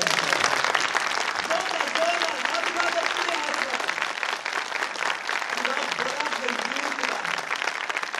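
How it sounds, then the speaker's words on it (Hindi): A church congregation claps loudly with hands raised during a Hindi-language sermon, a steady, crowded roar of applause with voices calling out faintly beneath it. "हाथ उठाकर जोरदार तालियां बजाएं।"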